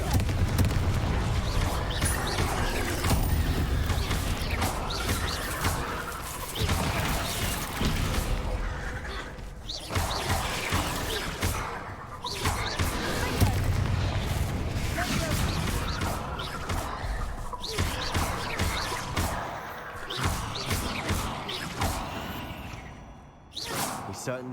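Bombarda spell blasts go off repeatedly during a dungeon fight in Hogwarts Legacy, with booming impacts and whooshes layered over continuous game music and a voice speaking throughout.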